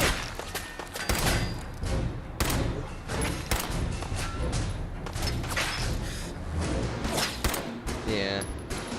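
Sniper and other gunfire in Fallout 4 at the Corvega assembly plant, a run of sharp, loud shots and thuds spread irregularly across the stretch, with talk mixed in.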